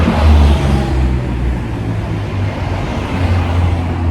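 A Porsche car engine rumbles deep and steady at close range, loud and constant throughout, with no voices.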